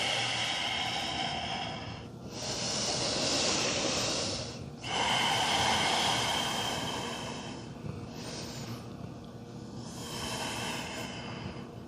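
Slow, deep yoga breaths, each long inhale and exhale drawn in and pushed out through the nose, close and airy, repeating in a calm unhurried rhythm with gentle background music.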